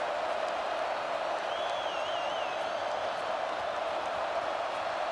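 Stadium crowd in a college football video game, Ohio State against Notre Dame: a steady, broad crowd roar with faint cheering and a single whistle-like whoop rising briefly above it, with no talk.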